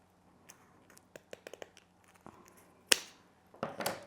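Scissors snip a drinking straw to length for a fake bake Valentine's cake craft, a series of small sharp clicks and cuts up close in a quiet room, ending with a few louder handling noises.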